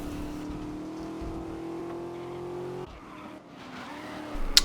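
Race car engines drone steadily in GRID 2019, a sustained harmonic roar that dips and thins near the end before a sharp tire squeal or skid flares up; no voices.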